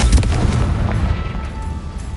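Confringo fire spell in Hogwarts Legacy, a single heavy booming blast that hits hard at the start and then rolls off into a rumbling decay, loud and with no voice over it.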